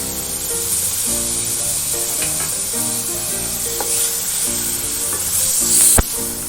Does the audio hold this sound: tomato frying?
yes